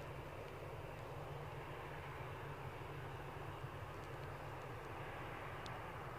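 An easyJet airliner arriving at Edinburgh airport gives a faint, steady distant engine rumble with a broad hiss, alone without voices.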